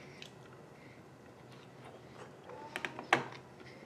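Chewing on a raspberry cranberry MRE ration bar, soft moist mouth sounds close to the microphone, quiet at first and then a few sharper bites and smacks near the end.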